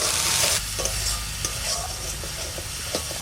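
Onion paste frying in a pan with whole cardamom and cloves, for an egg korma, a strong continuous sizzle with stirring knocks, close and loud, no talking.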